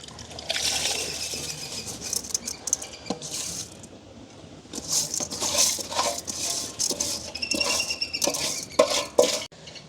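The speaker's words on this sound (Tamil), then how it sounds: "அரிசியையும் நல்ல வடிவாக அப்படியே கலந்து விடுவோம்" Soaked ponni rice being stirred into a biryani pot with a ladle, giving close, irregular scraping and wet clinking of metal against the pot that continues in bursts throughout.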